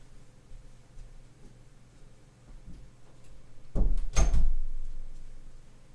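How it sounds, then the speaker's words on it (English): A door being shut indoors at home: a quiet room with faint ticks, then a sharp close knock followed by a second louder bang at about four seconds, then a fading tail. "I forgot to shut my door."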